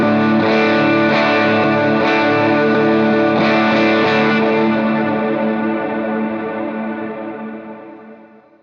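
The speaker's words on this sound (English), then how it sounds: "I just kicked it on to the reverb and delay setting" Electric guitar chords wash out in heavy reverb and repeating delay, sustaining loudly before slowly fading away at the end.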